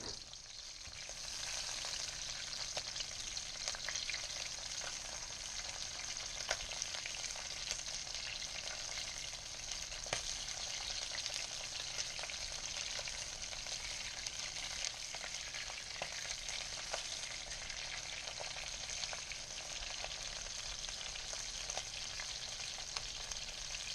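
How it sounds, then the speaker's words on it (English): Shell-on shrimp, legs and tails trimmed, fry in a pan with garlic and ginger until the shells crisp. A steady, close sizzle runs throughout with faint crackles and no talk. "We just want to crisp up that shell, get it to turn pink and a little orangish, knowing that it's done."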